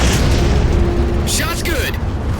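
A fired shot explodes in the Halo 4 campaign with a loud, deep boom and a rumbling tail, followed by rushing mechanical noise, while a radio voice speaks over it.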